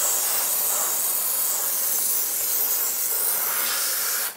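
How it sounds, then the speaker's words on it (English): A handheld steamer hisses a strong, steady jet of steam onto frozen ice inside a Samsung twin-cooling refrigerator, loud and close, cutting off abruptly at the end. "you can actually turn your steamer backwards and it won't spray steam out, it'll spray boiling water out"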